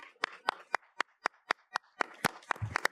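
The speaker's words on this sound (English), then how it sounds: "Let's give them a round of applause." Sparse, steady claps from a small audience at a South Burlington Juneteenth community celebration, sounding like only a few hands striking in an even rhythm, fairly faint, with no talking over them.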